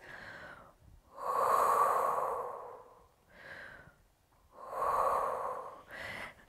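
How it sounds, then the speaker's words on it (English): Slow, deep breaths during a trigger point and myofascial release exercise with a ball, two long drawn-out exhales alternating with shorter inhales, close and fairly loud, with no talking. "nice deep breaths"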